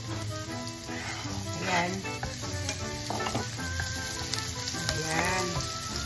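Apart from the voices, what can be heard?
onion sizzling as it is added to the frying pan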